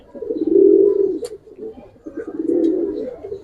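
A pair of kaldom pigeons coo up close in two soft, throaty, rolling phrases with a short gap between them.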